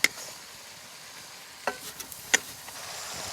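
A pan of mung bean sprouts stir-fried with pork gives a faint, steady sizzle, broken by a few sharp clinks and scrapes of a utensil.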